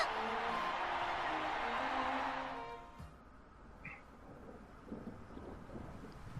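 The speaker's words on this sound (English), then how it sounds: "And it's raining." Rain and a low rumble of thunder in the Tokyo Mirage Sessions video game: a loud broad wash of rain for the first two seconds, then quieter steady rainfall with faint scattered patters.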